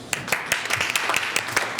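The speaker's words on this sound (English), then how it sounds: "Give them a round of applause." An audience applauds at a university Board of Regents candidate forum. The clapping is brief, fairly soft and dense, with quick overlapping claps and no talk over it.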